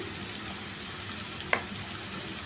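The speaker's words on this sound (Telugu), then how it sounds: "అల్లం వెల్లిపాయ పేస్ట్ ఫ్రై అయిపోయిందండి ఇప్పుడు కొద్దిగా పసుపు వేసుకుంటున్నాను" Ginger garlic paste and turmeric fry in a pan with a steady, even sizzle and a single sharp utensil click near the middle.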